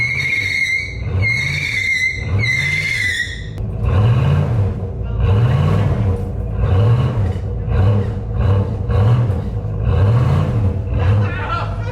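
A Chevrolet Monte Carlo on soft ground with poor tires revs hard again and again, its engine rising and falling in repeated loud surges, with high whistling tones early on and people talking over the noise.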